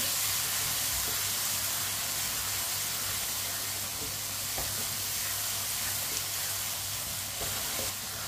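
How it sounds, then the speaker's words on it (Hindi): Spices, including red chilli, turmeric and coriander powder, frying in a pan for bottle gourd curry, with a loud, steady, close hiss and sizzle and a few faint stirring clicks. "मसालों को 1 मिनट के लिए पका लेंगे।"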